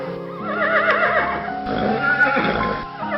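A loud cartoon donkey bray in an animated Telugu moral story, a wavering, rising-and-falling call repeated over about three seconds with no talk over it.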